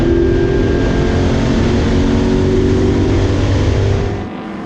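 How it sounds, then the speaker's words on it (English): Ford Mustang race cars at the Silverstone Classic, a loud continuous engine roar held near and steady before dropping off sharply at the end. "Craig Davies came out just ahead, but they're side by side coming through the loop"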